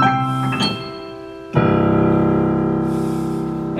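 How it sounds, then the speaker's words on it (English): Grand piano voice of a Kurzweil KAG-100 digital grand in polished ebony, with a loud chord struck, another attack near the middle, and rich sustained tones ringing out alone. "Your first one we have is the grand piano."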